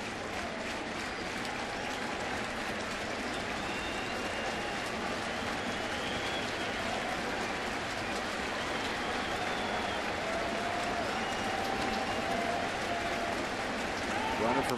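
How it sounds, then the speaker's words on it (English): A large baseball crowd at Busch Stadium roars and claps in a continuous, dense wall of sound throughout, with faint voices and whistles mixed into the steady noise. "Crowd has come alive here at Busch Stadium."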